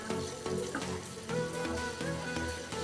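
Boiled banana stem stirring in hot oil and fried spice masala, a steady close sizzle and crackle with soft scraping throughout, no talk.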